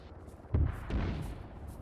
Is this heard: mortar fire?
yes